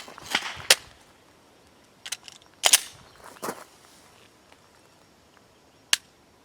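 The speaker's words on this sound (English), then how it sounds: "That was a primer detonation." Sharp small pops from primers firing on unsealed ammunition after 72 hours soaked underwater, a few scattered cracks spread through an otherwise quiet stretch.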